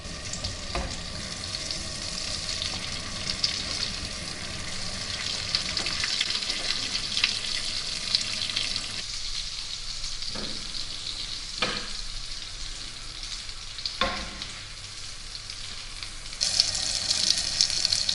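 Saltimbocca alla Romana, veal with prosciutto, frying in a pan: a continuous sizzle at moderate level with a few scattered clinks and taps over about eighteen seconds, with no talking.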